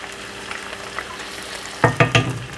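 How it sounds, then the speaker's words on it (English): Onions and green peppers sizzle in hot oil, a faint steady crackle, followed by three sharp scraping stirs near the end. "add in our onions. You can hear that sizzle."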